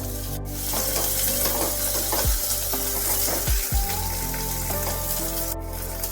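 Pointed gourd fries in oil in a wok with a loud, continuous sizzle, while a few scraping strokes of stirring cut through partway; no voices.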